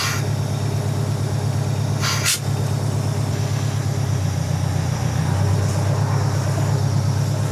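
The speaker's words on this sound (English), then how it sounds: "Brakes released." A Western Star dump truck's air brakes release in one short sharp hiss of air over the steady low idle of its engine, with the rumble continuing afterward.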